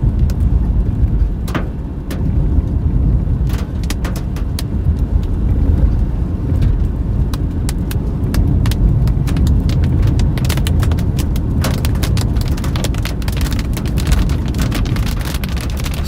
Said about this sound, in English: Yes, we're getting more hail.